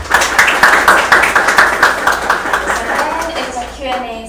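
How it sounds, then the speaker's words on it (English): Audience applause at a human rights law workshop after a speaker introduction, loud rhythmic clapping from a modest group of listeners that thins and fades toward the end as a voice begins. "So please give him a big applause first."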